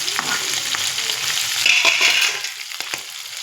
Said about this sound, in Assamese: ইফালে মই মাছ ভাজা কেৰাহীতে তেল আছিলে, ইয়াতে শাকখিনি ভাজিলোঁ।